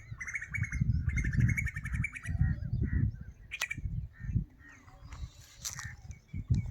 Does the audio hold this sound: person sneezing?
no